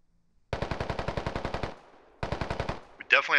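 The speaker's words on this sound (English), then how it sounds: "We definitely have an AK-47" Two bursts of automatic AK-47 fire in the military shooter Squad crack out close and loud, the first a long rapid string of about fifteen shots, the second a shorter burst, followed by a brief voice.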